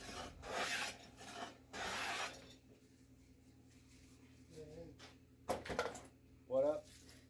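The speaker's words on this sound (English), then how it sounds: "After it's dried, I like to burnish it with some wood shavings." A handful of wood shavings is rubbed hard over the finished wooden body of a homemade router plane in two raspy bursts. Quieter shuffling follows, with brief faint voice sounds near the end.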